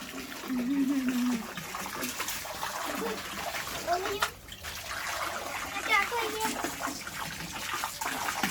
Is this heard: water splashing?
yes